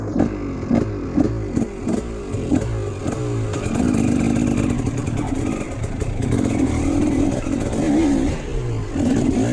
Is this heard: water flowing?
no